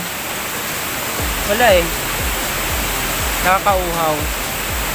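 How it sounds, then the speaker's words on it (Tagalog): Busay de Gracia waterfall in Masbate pours as a steady, broad rushing roar throughout, with a person speaking briefly over the constant water noise. "ito yung tinatawag nilang Pusay de Gracia Falls ng Balenong Masbate"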